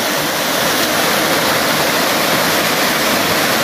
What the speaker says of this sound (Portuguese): Olha só a altura dessa cachoeira aqui.